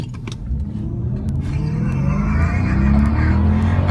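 A 1998 Jaguar XJR sedan engine revs and accelerates hard, the roar building steadily in loudness and pitch, close up, with brief clicks early on.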